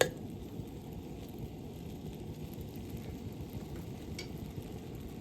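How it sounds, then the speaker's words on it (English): Sugar bubbling and sizzling steadily in a pan on the stove as it cooks down into dark browning, a close, continuous crackling hiss with no pauses. "As soon as it starts to bubble, then you know you have your browning"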